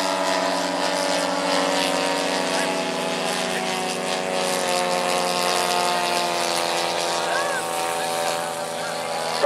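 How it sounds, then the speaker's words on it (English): Pair of RC crop duster model planes, each with a 111cc DLE gas engine, droning steadily and loudly nearby at an outdoor rally, a continuous buzzing engine tone without pause. "These two crop dusters are both powered by a 111cc DLE gas engine and both are controlled by Futama Radio."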